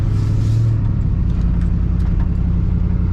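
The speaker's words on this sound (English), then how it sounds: "The truck is loud." A rebuilt-transmission pickup truck engine runs loudly while driving, giving a constant, heavy low rumble close by with no breaks.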